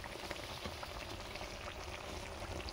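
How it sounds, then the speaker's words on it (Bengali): Mango pieces frying in oil in a pan for mango pickle give off a faint, steady, rain-like hiss and fine bubbling, unbroken and without any voices. "আমগুলো ভালো করে আমি ভেজে নিচ্ছি"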